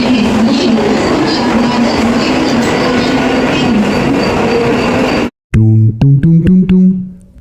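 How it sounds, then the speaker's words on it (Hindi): Mumbai local commuter train on the move, a loud, steady rumble and rattle of carriages heard from on board for several seconds, then a sudden cut to a few bright tonal musical notes. "यहाँ से अभी हम लोकल ट्रेन लेंगे"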